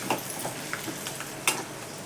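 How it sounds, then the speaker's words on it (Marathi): Peanuts frying in hot oil for a fasting-day sabudana chivda, a steady broad sizzling hiss with a few light taps of a spoon against the pan, close and without talk. "त्याचे शेंगदाणे तळून घेते."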